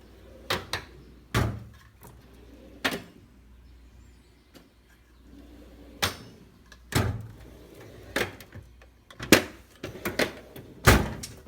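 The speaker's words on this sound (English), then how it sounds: "These little skinnier drawers aren't ball bearing drawers, so they don't go as smooth, but these are really smooth." Drawers of a Harbor Freight 72-inch toolbox sliding open and shut, a string of sharp knocks and short rolling slides scattered at irregular intervals, close and fairly quiet with no talk.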